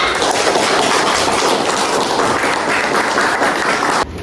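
A classroom of pupils applauds loudly and steadily for about four seconds, dense clapping filling the room before it cuts off.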